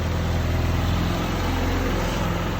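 A Honda CRX engine runs again after an AN-6 fuel line repair, a loud, close, continuous rough idle filling the short stretch with no speech.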